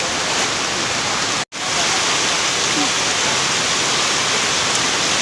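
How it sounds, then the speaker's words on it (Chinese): A heavy rainstorm pours down outdoors, where a man stands on a tricycle holding a small umbrella. The loud, dense downpour hiss is steady and continuous, broken only by one very brief dropout. "今天大暴雨来了"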